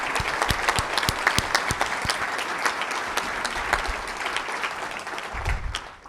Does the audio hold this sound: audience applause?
yes